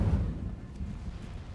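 An Incendio fire spell cast in Hogwarts Legacy lands as a low, rumbling whoosh-boom that starts strong and fades quickly, with a muffled, heavy character and no voices over it.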